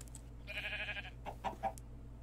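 Chickens in a video game cluck faintly over a low steady hum, a short run of clucks followed by a few quieter clipped calls.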